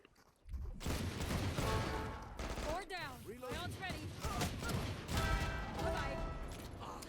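Rapid weapon fire from the video game Valorant rattles in dense bursts alongside other game sounds, with a voice speaking briefly over the shooting.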